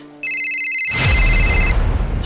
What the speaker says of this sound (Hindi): आदि का फोन